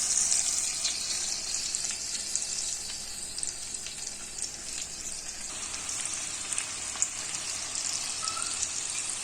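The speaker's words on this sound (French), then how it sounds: "Et là, je prends mes rations de poulet. De cette façon, je les laisse mijoter un petit moment" Chicken pieces simmering in a pan for lemon chicken tagine, a steady bright sizzle and bubbling with occasional pops, continuous and fairly close.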